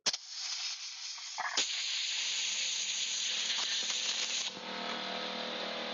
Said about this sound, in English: the air compressor